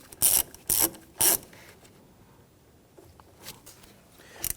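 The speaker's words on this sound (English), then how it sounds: "Snug down the securing nut here." A ratchet snugs down the securing nut on a battery terminal of a Kia Sorento, giving three quick loud clicking strokes, then quieter scraping and small taps nearby.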